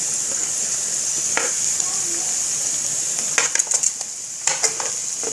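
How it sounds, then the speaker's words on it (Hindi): Capsicum and cabbage fry in a pan, a bright, steady hiss of sizzling oil with a few short spoon clinks and stirring taps near the end. "अच्छा सा फ्राई कर लेते हैं"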